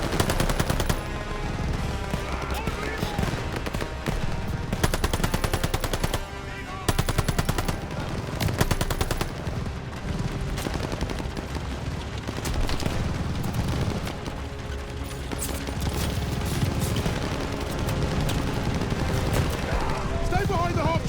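Dense, continuous machine-gun and rifle fire rages through a Call of Duty Vanguard battle scene with half tracks, with booms mixed in and shouting voices heard under the din throughout.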